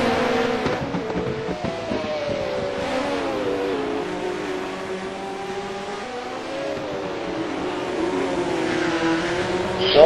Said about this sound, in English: Dale is running the best car in the field, the Williams, and Juan's also running a very good car in the Lotus 79, and they're coming up the hill